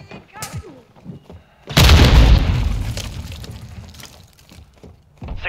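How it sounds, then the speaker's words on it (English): A grenade blast in Call of Duty: Modern Warfare II multiplayer, a single loud, close boom that rings out and slowly fades over a few seconds, with faint game sounds before it. "Throwing grenade!"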